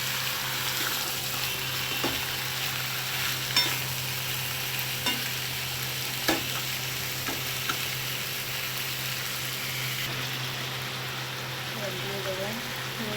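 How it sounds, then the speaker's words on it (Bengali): Chicken being stirred with fried masala in a pan in a home village kitchen, a continuous low sizzle with occasional scrapes and taps of the spoon, under a speaking voice. "চিকেনটার সাথে কষানো মশলাটা ভালো করে মেখে নিয়ে এবার একটু ঢাকা দিয়ে দেবো।"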